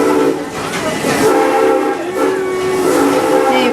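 Busch Gardens Serengeti Express park train, a two-train operation with a red and yellow train, rolls along steadily with rumbling wheels and a sustained whistle-like tone, loud and continuous throughout.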